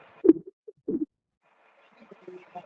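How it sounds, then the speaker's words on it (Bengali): A pet pigeon coos close by in two short, throaty bursts, then murmurs softly and intermittently. "ওই দুষ্ট পাখি।"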